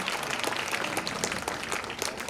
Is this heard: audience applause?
yes